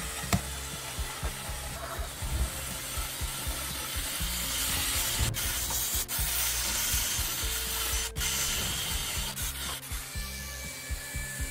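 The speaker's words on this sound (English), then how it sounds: "For this operation I use the flexible and the felt disc and wax past of two types." Brass being polished with a felt disc and wax paste on a flexible shaft tool, a continuous close rubbing whir with rhythmic scuffing strokes and a few sharp clicks.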